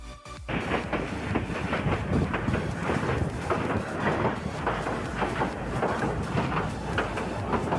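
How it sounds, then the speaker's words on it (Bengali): A passenger train crossing a small railway bridge, heard from on board, rumbles low and heavy with a rapid, rhythmic clatter of wheels that holds steady throughout. "আমরা এখন একটি ছোট রেল ব্রিজের উপর দিয়ে পার হচ্ছি।"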